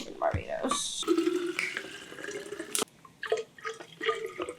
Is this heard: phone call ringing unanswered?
no